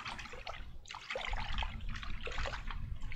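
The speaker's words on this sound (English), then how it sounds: "put it into the water and swish it around" Raw sheep fleece swished around by hand in a tub of water for washing, giving continuous close sloshing and trickling with splashy bursts, no talk.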